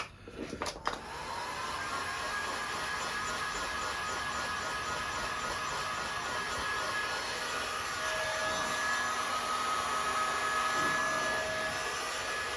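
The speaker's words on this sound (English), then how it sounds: "just a bit of heat gun just makes the rubber a bit more malleable" Heat gun blowing hot air onto the rubber of a Honda Cub C70 classic motorcycle during restoration, a steady whooshing roar that starts abruptly after a brief clatter and holds loud and constant throughout.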